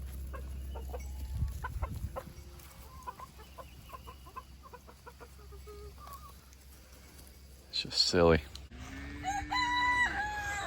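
Backyard chickens cluck in quick scattered bursts, then a nearby rooster crows loudly once near the end, with a person speaking briefly between.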